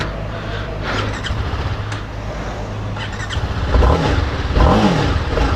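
A 2021 TVS Apache RR 310 motorcycle engine idles loudly close by in urban mode, then revs up twice in rising, throaty surges toward the end.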